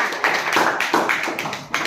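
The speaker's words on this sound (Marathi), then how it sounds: "आजच्या माइंड गेमचा विजेता आहे सूरज आणि सूरजसाठी जोरात टाळ्या" A classroom of students claps for the winner of a mind game. The applause is brisk, fairly loud and close, with uneven hand claps over about two seconds.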